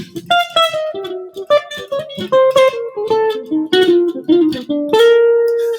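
A jazz guitar plays a quick single-note line full of chromatic passing tones over a 2-5 progression, with clean plucked notes in a steady flowing rhythm and no one talking.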